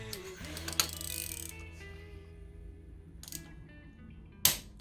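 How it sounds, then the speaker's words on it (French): A ratchet wrench removes spark plugs from a Renault Twingo 1.2 16v 75 hp, with short bursts of rapid clicking, some sharp, separated by quiet gaps over a faint background hum. "J'adore mon cliquet."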